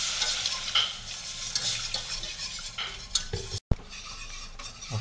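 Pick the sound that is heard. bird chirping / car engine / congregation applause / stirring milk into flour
stirring milk into flour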